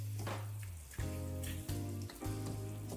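Sausages in tomato sauce simmer in a pan with a close, continuous crackling sizzle, broken by brief pauses, over a steady low droning hum.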